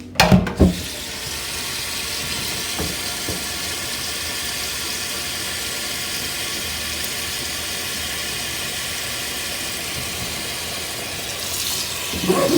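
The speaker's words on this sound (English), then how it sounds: "we're going to fill this up with some water." A kitchen tap fills a pot with water for chicken and dumplings, a steady, close rushing stream that runs loud and unbroken for about eleven seconds between brief clunks at the start and end.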